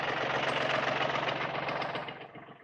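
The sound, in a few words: tractor-mounted auger engine drilling post hole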